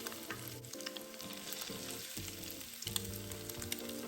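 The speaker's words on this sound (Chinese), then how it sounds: "放入热油内油炸" Tofu shrimp balls deep-frying in hot oil over medium heat, a steady dense crackle and sizzle running throughout with small pops and occasional stirring knocks, close and continuous.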